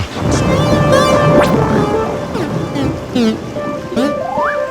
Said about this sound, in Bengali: দাদুর কথা শুনে দেখছি বৃষ্টিটাও একটু ধরেছে